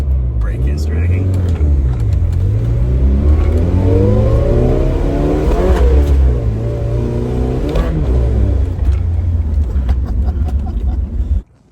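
A 1981 Dodge Challenger with a dragging brake revs and accelerates hard, its engine note rising and falling in loud sweeps close by. A brief tire squeal suggests the wheels breaking traction, and people talk over the engine.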